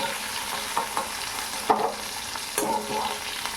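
Ivy gourd (kundru) frying in oil in a pan, with a constant soft sizzle under sharp scraping clicks as a spatula stirs the pieces at irregular intervals.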